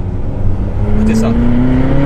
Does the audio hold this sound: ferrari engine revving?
yes